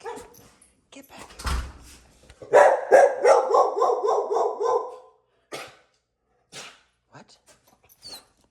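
A dog barks in a rapid, loud burst of repeated close barks, followed by a few isolated single barks, with people talking around it.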